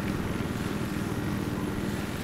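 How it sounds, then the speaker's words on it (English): Enemy helicopter in a multiplayer shooter match on a canals map, its rotor and engine drone steady and fairly loud, held at an even level throughout with no voices over it. "Their helicopter's coming from their base now."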